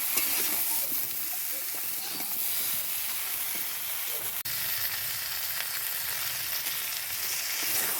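Vegetables such as brinjal, potato and beans frying in a pan, a steady moderate sizzle with light stirring, close by and uninterrupted.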